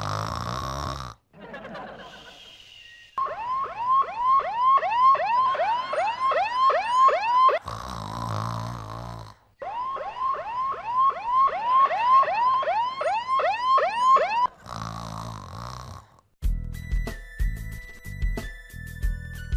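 A voice mimics loud snoring that turns into a rising and falling whistle like an ambulance siren, repeated in long wailing bursts broken by short gaps and closing with a harsh snort.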